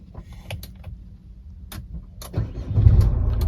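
A 2014 Chevrolet Captiva diesel with automatic transmission is started using its keyless push-button ignition. A few soft clicks come first, then the engine cranks and catches into a loud, steady low rumble close by.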